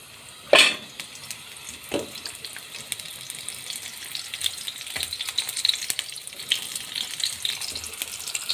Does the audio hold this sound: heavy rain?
no